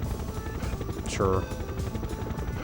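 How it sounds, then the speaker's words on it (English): A helicopter in the Toy Story 2 video game lowers a plane over a runway, giving a steady rotor drone. A short swooping tone and a brief spoken word sit in the middle of it. "I guess that gives the helicopter pilot the okay and just lowers the plane"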